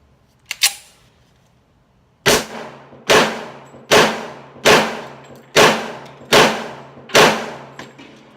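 A 1911 pistol firing at a shooting range: after a small metallic click, seven loud, sharp shots ring out at a steady pace of roughly one every 0.8 seconds, each with a short echoing tail.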